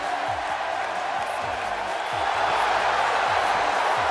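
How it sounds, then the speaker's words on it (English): A wrestling arena crowd in WWE 2K18 as Nikki Bella makes her entrance, a steady dense roar of cheering held at an even level throughout with a pulsing entrance beat underneath. "And what about this crowd reaction"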